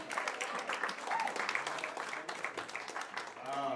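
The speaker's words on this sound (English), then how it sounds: "Clap it up for Jason Salmon, everybody." An audience at a Times Square comedy club applauds, a dense, continuous wash of clapping at moderate loudness that lasts the whole moment, with a voice talking over it.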